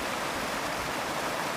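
Steady rushing water from a nearby creek in the Beartooth region, a continuous broadband babble with no breaks and no voices.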